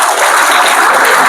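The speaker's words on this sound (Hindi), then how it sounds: "बहुत बढ़िया, एक बार तालियां इसके लिए।" A brief, loud burst of audience clapping in a lecture hall during a talk to students, dense and continuous throughout.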